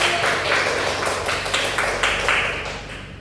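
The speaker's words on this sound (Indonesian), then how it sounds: "Tepuk tangan dulu dong untuk teman-teman." Students in a physics classroom clap for their classmates, a short burst of close, steady clapping with a faint roomy echo.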